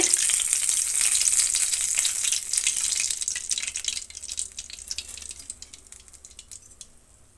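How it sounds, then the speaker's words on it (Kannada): Rice-flour sweet dough deep frying in hot oil, a dense, bright bubbling sizzle that is loud at first and slowly fades, heard up close with no talk. "ಈ ರೀತಿ ಎಲ್ಲ ಡೀಪ್ ಫ್ರೈ ಮಾಡ್ಕೊಂಬಿಡೋಣ"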